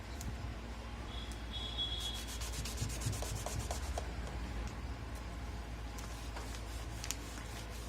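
A damp cloth wipes an Oppo Neo5 smartphone during a display repair, making soft, close rubbing strokes against a steady background hiss.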